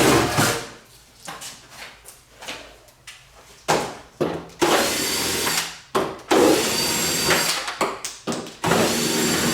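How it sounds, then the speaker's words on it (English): A power tool spins out the seat bolts on a Peg Perego Gator ride-on toy, short whirring bursts of varying length broken by clunks and handling noise, close and fairly loud. "we're going to use power tools to remove the seat"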